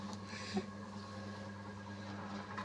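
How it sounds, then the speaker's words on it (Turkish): A machine grinding peppers for Turkish pepper paste gives a steady, low motor hum with a constant mechanical drone and a faint knock near the start, with no talk. "Şimdi de biberler çekiliyor."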